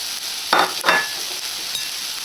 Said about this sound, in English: So the pan is nice and hot now, so I'm just going to add the courgette.